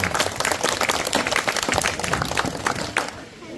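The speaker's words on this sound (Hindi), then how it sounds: "तालियों के साथ गड़गड़ाहट।" Applause breaks out at a school retirement ceremony as a guest is garlanded and welcomed, a dense, steady clapping crowd that carries on for several seconds before thinning slightly at the end.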